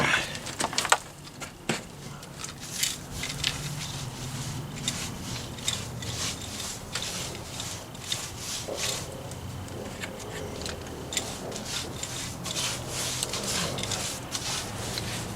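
A brush spreads Portland cement whitewash over a wet masonry surface. A steady scratchy rubbing of bristles repeats in short strokes, close but quiet, over a hissy background and without speech.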